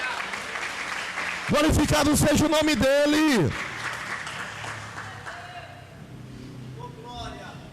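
A church congregation claps and cheers during a teaching service, the applause rising briefly under a loud sung or shouted phrase before fading into murmuring and a speaking voice.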